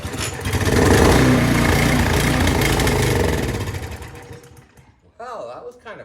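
A 2006 DR trimmer with a Briggs and Stratton Intek engine with too much compression starts up and runs loud and rough for a few seconds, then winds down and stops, and a voice follows.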